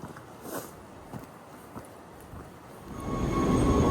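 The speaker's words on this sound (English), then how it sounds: "Okay, I will be on this next train." A train pulls into a station in Lauterbrunnen, Switzerland, faint at first with a few soft clanks, then a rising rumble and wheel noise as it draws near.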